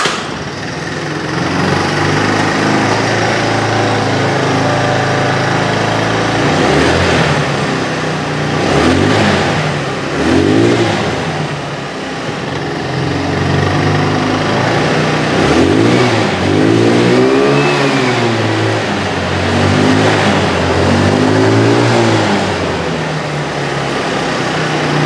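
A Baotian BT 125 scooter engine is kickstarted and fires up, then idles with a buzzy drone. It is revved several times, and each rise and fall is clear and loud close by.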